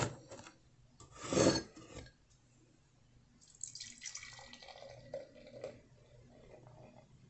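Church Music Juicy IPA beer from The Shop Beer Co. being poured from a can into a glass, a short splashing rush followed by quieter fizzing and foaming trickles, close and alone.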